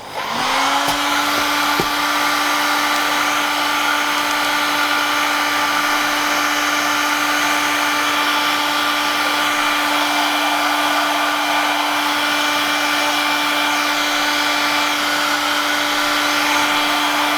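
A heat gun blows hot air onto loose plastic on a Planet X Maratona road bike, a steady loud whine with a tonal hum that starts abruptly and holds unchanged throughout, alone with no talking.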